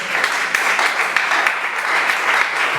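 A church congregation claps together in acclaim of the Lord, a dense steady patter of applause with faint voices mixed in.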